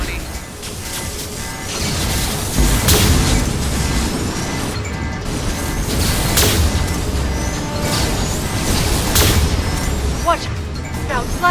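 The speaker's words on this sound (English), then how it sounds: "Watch out, flashbangs." Flashbang grenades going off during a Mass Effect 2 firefight: a dense, loud barrage of crashes, bangs and bursts over continuous battle noise and music, with several sharp explosive peaks across the clip.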